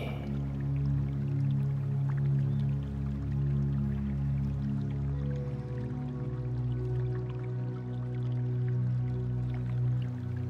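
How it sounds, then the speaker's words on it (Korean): Water drips and trickles steadily through a calm meditation recording, set against sustained, droning musical tones that run throughout at an even level. "물소리를 들으며"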